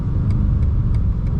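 A BMW M8 Competition engine rumbles loud and steady through a downshift, a deep continuous low drone with faint rhythmic ticks on top and no talking.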